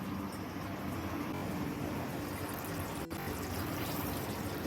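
Water pours steadily and continuously into Punjabi-style aloo dum gravy made with whole crushed potatoes in a pot, a close, even liquid rush that keeps going with no voices.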